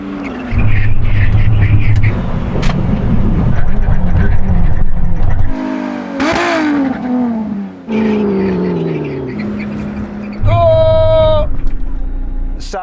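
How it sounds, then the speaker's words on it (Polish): LaFerrari, Porsche 918 and McLaren P1 hypercars braking hard from 160 km/h: loud, steady engine roar that drops off in stages, a swelling whoosh midway and a high tonal whine near the end, with voices in the background. "Teraz Zróbmy test hamowania od 160 km na godzinę."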